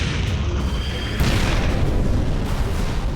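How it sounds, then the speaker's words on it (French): A German field gun shell bursts against a First World War tank, a heavy, rumbling explosion filling the whole moment with dense low roar and a sharp crack partway through. "L'obus d'un canon de campagne allemand détruit Hong Kong."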